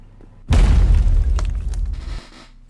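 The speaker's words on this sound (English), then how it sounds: "It's gonna explode. Of course it's gonna explode." A vending machine explodes in a video game: a sudden loud boom with a rumbling low-heavy burst and crackling debris that holds for under two seconds, then cuts off.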